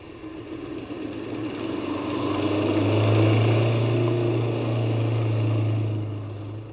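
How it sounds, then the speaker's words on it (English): A lawn mower running steadily near a village, its engine holding a low, even drone that swells slightly and then eases, with no voices. "The nearest village is Poole, where Andy's mowing his lawn."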